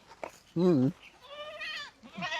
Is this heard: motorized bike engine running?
no